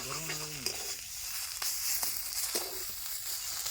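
Boiled ridge gourd peel stir-fried in a wok, with a steady hiss of sizzling oil and soft scraping strokes of the spatula repeating every second or so, close and continuous.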